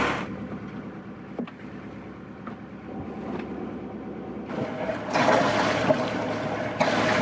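A sailboat motoring out under engine power along the Kimberley coast near Cape Bougainville. A low, steady engine hum and water noise build up and grow louder toward the end, with no talk.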